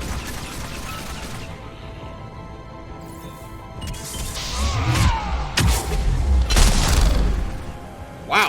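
Pistol fire in Mass Effect 3 Legendary Edition: a few heavy, punchy shots with mechanical clacks in the second half, loud and close over a steady background of game ambience.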